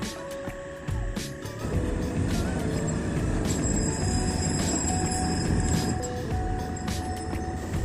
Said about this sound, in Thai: มารอบนี้โชคดี รถไฟผ่านบนสะพานพอดีเลย